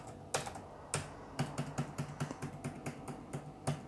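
Typing on a computer keyboard while building an invoice template in Publisher: quiet, close clicks in an uneven run, with a few sharper key strikes and no talk.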